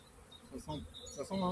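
Honeybees buzz around agitated hives during a dogwood honey flow, a faint, wavering drone with a few louder swells passing near, lasting only a moment.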